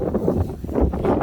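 Cold wind gusting across an open rural cattle yard at dusk, a steady low rumbling buffet against the microphone that rises and falls without pause.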